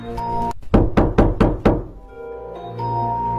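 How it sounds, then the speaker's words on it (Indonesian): Five firm, evenly spaced knocks on a door sound close and loud over a steady droning musical background. "Boneka Ambalabu ini akan mengetuk pintu mangsanya terlebih dahulu"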